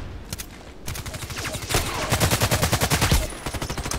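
Rapid bursts of gunfire from a weapon in the video game Contract Wars, a fast, steady rhythm of shots that grows louder through the middle and continues to the end, with no talking over it.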